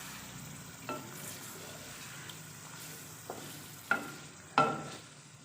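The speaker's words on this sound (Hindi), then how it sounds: "चमचा ऐसा ऐसा चलाना है ताकि आलू टूटे ना" Potatoes being stir-fried in a pan with a spoon, a faint steady sizzle broken by a few sharp scraping clanks of the spoon against the pan, spaced irregularly.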